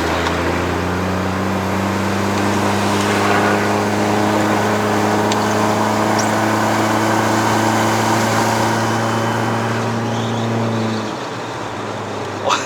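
A Stage 2 tuned Proton Suprima S Premium turbo car accelerates under part throttle, its engine drone loud and steady with rising harmonics for about eleven seconds before easing off abruptly.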